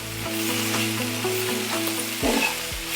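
Fenugreek leaves sauté in a hot tempering with toor dal, giving a close, steady sizzle. A few stirring scrapes and a brief louder burst of frying come near the end.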